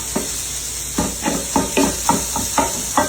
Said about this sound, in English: Our sausage is cooking and it's coming along nicely